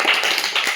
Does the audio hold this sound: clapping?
yes